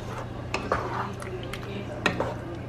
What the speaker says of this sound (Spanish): Lo estoy hirviendo así a fuego lento para que la pasta no se consuma tan rápido.